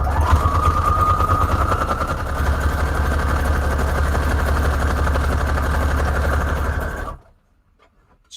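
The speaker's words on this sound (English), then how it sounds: "No, let's do zigzag stitch because I have a lot of papers to sew." A sewing machine running a zigzag stitch across paper guest checks, a steady loud mechanical hum with a whining tone for about seven seconds before cutting off into near silence.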